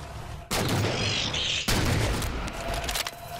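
Gunfire in the video game Halo 4: two abrupt loud bursts of shooting, the second starting about a second after the first, each dense and sustained before tailing off.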